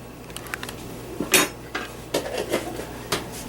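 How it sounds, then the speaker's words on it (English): Garlic dropped into a pan of olive oil heating over medium for cauliflower fried rice, heard as a few scattered clinks and soft taps of utensil on pan, moderately quiet with a faint background hum. "That was about a tablespoon's worth of garlic added to the heating pan."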